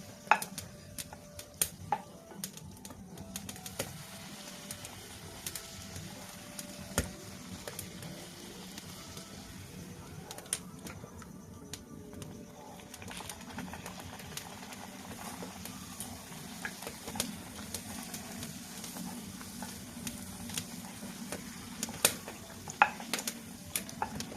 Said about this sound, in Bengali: ফুলকো ফুলকো ফুলকো হচ্ছে, ভাজাচ্ছে খুব সুন্দর।